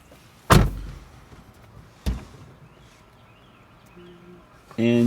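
A car's back door opens with two sharp clunks of the latch and door, then a faint whir, and a sliding rustle near the end, all close by with no talk.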